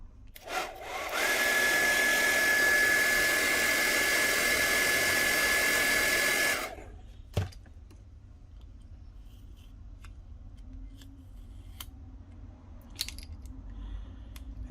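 Heat gun blowing on a Moto E7 phone display flex cable during LCD replacement, a loud steady whooshing roar for about six seconds that cuts off abruptly, followed by quiet room tone and a few small clicks.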